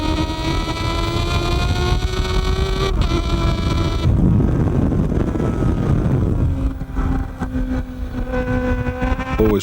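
Onboard a Kawasaki ZXR 750 racing motorcycle at the Isle of Man TT road races in 1996, the engine howls loud and close with steady harmonic whine, dipping as it downshifts to first gear then rising again, with wind buffeting throughout.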